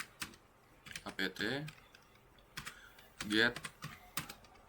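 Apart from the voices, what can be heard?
typing terminal command on computer keyboard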